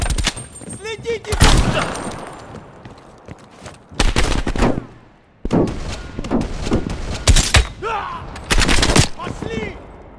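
Gunfire in the video game Call of Duty: Black Ops Cold War, with loud close bursts of shots and heavy thuds in uneven clusters separated by brief lulls, mixed with shouted voices.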